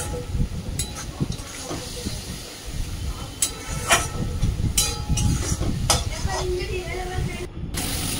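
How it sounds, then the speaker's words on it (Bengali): Ginger garlic paste, turmeric and spices frying in a pan while being cooked down, a steady loud hiss with scraping stirs and occasional clinks running throughout. "তো মশলাটাকে ভালো করে কষিয়ে নিচ্ছি"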